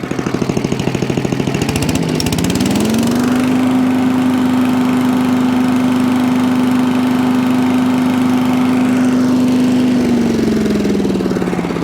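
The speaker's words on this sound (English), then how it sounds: "one Allen chipper now all up and running" An Allen chipper shredder's small petrol engine runs loudly and steadily with a strong mechanical drone, rising as it revs up after a couple of seconds, holding a constant pitch and then easing back down near the end.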